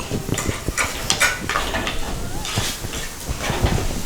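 Chopped beetroot being stirred in a pan for a beetroot curd kichadi: a steady hiss with irregular scraping clinks of a spoon against metal, close up.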